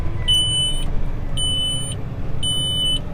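Three evenly spaced high electronic beeps from a tractor's auto steer system, each lasting about half a second, over a steady low engine rumble.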